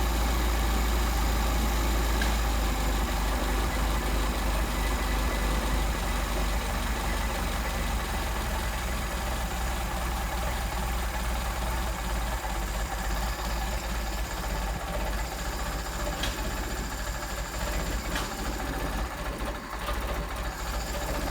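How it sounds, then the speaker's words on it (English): A Mercedes 190SL engine fitted with Solex 44PHH carburetors, idling very low with a steady, lumpy mechanical rumble and a fast ticking chatter, close and even with no talk. "Now just for fun, we'll see how low these things will idle."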